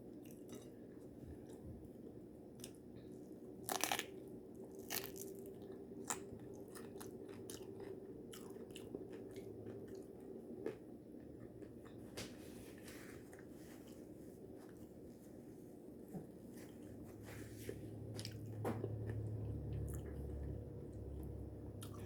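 Close, soft chewing of taco salad runs on steadily, with crunchy bites, squishy mouth sounds and light utensil clicks, and no talking.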